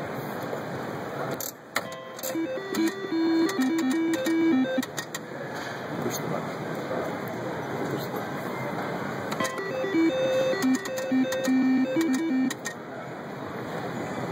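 A Las Vegas slot machine spins after its lever is pulled, playing bursts of bright electronic melody tones over a steady mechanical whir and clicks, amid casino background noise.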